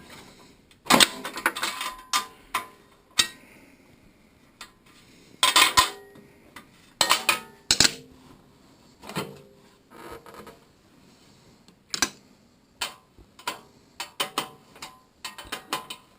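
A ratcheting 10mm wrench loosens carburetor bolts on an MTD Powermore engine, giving bursts of sharp metallic clicks separated by quiet pauses, close and clear.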